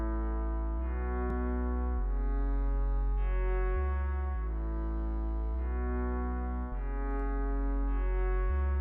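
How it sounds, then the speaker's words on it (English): A sustained synth bass line with rich harmonics steps through a repeating sequence of notes, washed with chorus and reverb. "Little reverb, back off, a little more chorus."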